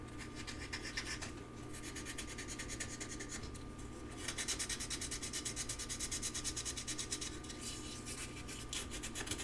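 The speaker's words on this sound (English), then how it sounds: "Actually, I'm gonna sand it first. Put some sandpaper in it." Sandpaper rubbed back and forth over soldered joints, a steady close raspy scratching that runs continuously with slightly louder, faster strokes in the second half.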